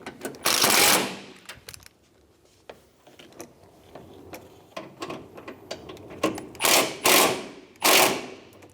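Bolts being snugged down on a 2005-2015 Toyota Tacoma AC condenser: bursts of rapid mechanical clicking and ratcheting, loud near the start and again toward the end, with scattered ticks between.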